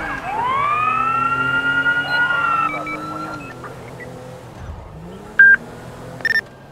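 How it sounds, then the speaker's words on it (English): Police sirens in the FivePD video game wail loud and near, their pitch sweeping upward and holding steadily before fading, followed by a couple of short electronic chirps near the end. "all I heard was the sirens in the background"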